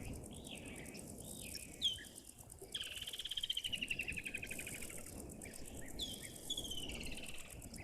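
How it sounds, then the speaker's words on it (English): Woodland kingfisher calling at a waterhole, a high descending trill that rings out near the middle, with other bird chirps and steady insect buzz throughout the background. "You can also hear a woodland kingfisher calling."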